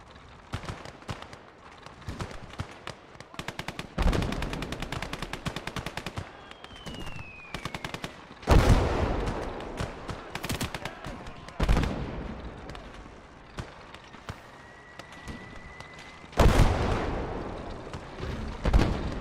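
Mortar fire and gunfire in a war video game: rattling machine-gun bursts and scattered rifle shots broken by several heavy, booming impacts, some close and loud, others more distant, with no speech.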